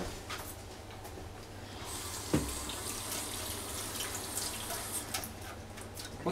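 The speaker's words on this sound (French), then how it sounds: "Alors, je vais me rincer les mains et je reviens." A kitchen tap runs steadily while hands are rinsed, a soft continuous water hiss with a few small splashes and clinks, quiet and close, without talking.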